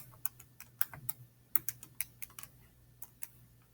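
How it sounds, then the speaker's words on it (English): Calculator keys pressed in a quick, uneven run of light taps during an algebra lesson, close and fairly quiet over a low steady hum, with no talk. "if we type this into our calculator"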